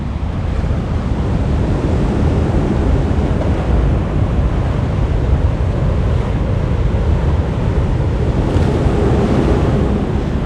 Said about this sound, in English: And that, my friends, is the North Sea.